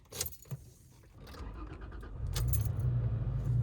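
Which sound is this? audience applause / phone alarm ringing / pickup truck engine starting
pickup truck engine starting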